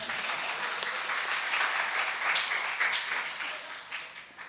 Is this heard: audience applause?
yes